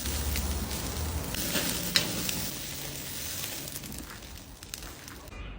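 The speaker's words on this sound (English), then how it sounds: "so you just want to get a sear on the outside." Already-cooked lobster searing in a hot pan gives a steady, close, loud sizzle that holds evenly, with a brief crackle near the middle.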